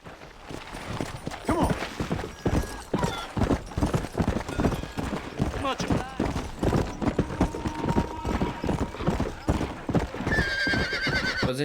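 Horse hooves clip-clop in a steady galloping rhythm while the horse neighs and whinnies loudly in Red Dead Redemption, close up and continuous, with a brief brighter chime near the end.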